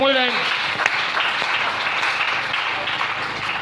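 A church congregation breaks into sustained applause and cheering praising the Lord, a dense steady roar of many hands filling the room after a preacher's brief spoken line.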